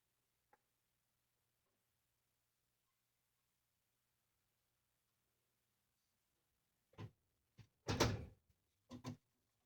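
A drawer on a Milwaukee tool box slides and clunks shut in a garage, a short burst of scraping and knocks after a long near-silent stretch.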